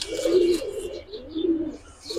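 A Nazra female pigeon among others coos in low, throaty rolling calls, close and clear, with a few faint higher chirps behind.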